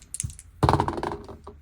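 Dice rolled for a card and dice reading, a short rattle and then a burst of clattering as they tumble and settle, fairly close, with no voice over it.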